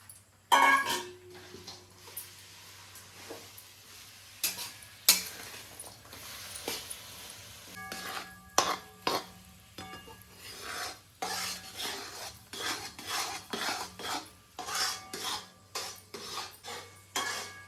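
Plain jaggery cooked into syrup with a spoonful of ghee in a pan, stirred steadily: repeated scraping and rasping strokes with metal clinks against the pan, close and fairly loud, with no talking.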